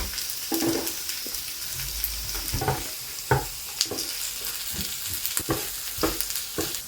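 A cheese steak sandwich with cheese on top sizzles and fries in a pan, a steady crackling hiss broken by soft scraping knocks as it is turned, close and fairly quiet with no talk.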